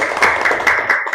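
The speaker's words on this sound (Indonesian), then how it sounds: "Ya, oke, tepuk tangan." A classroom of students claps hands together in a short, dense burst of applause during a lesson.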